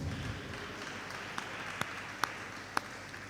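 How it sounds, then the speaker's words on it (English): Faint applause for the media team, boys and teachers at an inter-school debate meet, a soft distant wash of clapping broken by four sharp, louder individual claps spaced roughly half a second apart. "I think we need to give them a huge round of applause."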